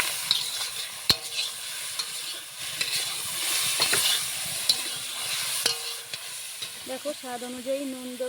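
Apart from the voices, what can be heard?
pointed gourd pulp being stirred in a frying pan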